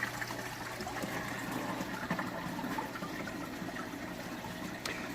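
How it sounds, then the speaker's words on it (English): Water pours steadily from 200-micron filter bags into the first section of a saltwater reef aquarium sump, a constant close gushing trickle with no one talking. "that drains into the first section of the sump"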